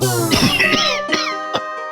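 A cartoon king coughs in a few harsh, hoarse bursts, loud and close, alone.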